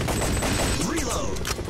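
Rapid gunfire from the arcade shooter Time Crisis fills the scene, a dense, continuous barrage of shots with game effects layered throughout, loud and close with no clear pauses.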